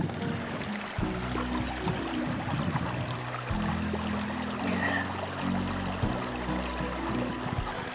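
Feet wade through a shallow forest creek, giving a steady watery rush and splashing with muffled low thumps from the steps, close and continuous with no talk.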